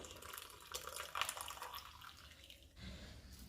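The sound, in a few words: pouring freshly made tea through a filter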